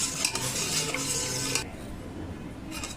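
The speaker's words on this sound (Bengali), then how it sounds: "এবার এই নুনটাকে জলের সঙ্গে খুব ভালো করে আমি মিশিয়ে নিচ্ছি।" A spoon stirs salt into water in a bowl, brine for dahi vada, giving a steady run of close scraping and swishing that stops partway through, leaving quiet room tone.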